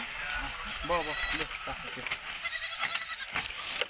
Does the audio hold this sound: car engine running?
no